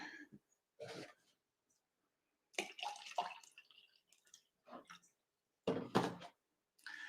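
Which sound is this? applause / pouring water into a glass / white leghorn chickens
pouring water into a glass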